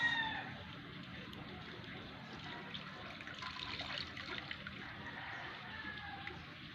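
Water runs steadily during a modified sponge bath, a soft continuous trickle and splash with no one talking over it.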